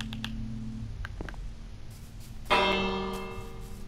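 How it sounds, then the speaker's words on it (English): A village bell in Minecraft rings out during a raid, a single bright metallic clang with a long shimmering decay, following quieter game sounds and small clicks. "Should probably go ring the bell."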